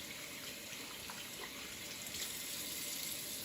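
Water running steadily from a tap while hands are rinsed at a sink, a constant soft hiss and splash with no talking.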